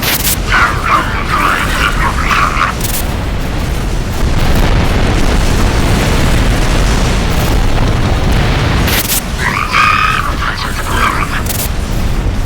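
Missile explosions rumble and boom continuously in space combat in Rebel Galaxy. A low, loud, sustained roar is broken twice by a short burst of synthetic chatter on top.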